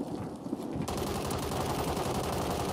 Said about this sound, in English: Firing off some shots at the bass B.